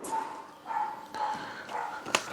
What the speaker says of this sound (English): We got some dogs going crazy.